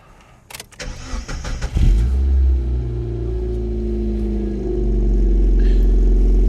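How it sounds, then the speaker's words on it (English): A Mk2 Mazda MX-5 engine, fitted with a catalytic converter, cranks and catches, then settles into a loud, throaty idle with a deep rumbling exhaust, close up. "the exhaust still sounds pretty good"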